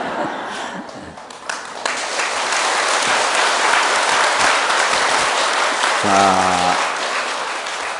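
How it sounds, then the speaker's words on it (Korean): Sustained loud applause from an audience at a Buddhist dharma talk on the Diamond Sutra, steady clapping filling the space throughout, with a brief spoken word from the monk near the start. "이제 박수 많이 치셨으니까"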